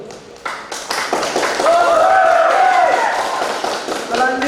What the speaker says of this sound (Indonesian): Berikan tepuk tangan yang meriah kepada pasangan calon nomor urut 2.